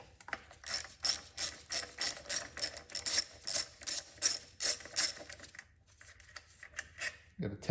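Rapid ratchet wrench clicking in quick bursts, close and loud, while removing a Bosch K-Jet fuel injector from an engine intake, stopping after about five seconds with faint handling noise after.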